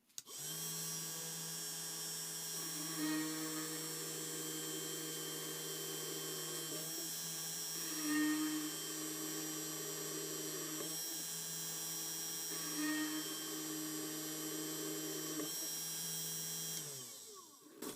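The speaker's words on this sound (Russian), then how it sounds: "Теперь попробую в работе вольфрам-карбидное сверло." A small drill press runs at high speed, a tungsten carbide 1 mm bit boring into 3 mm steel with a steady whining hum and a few swelling bursts of cutting noise before the motor spins down.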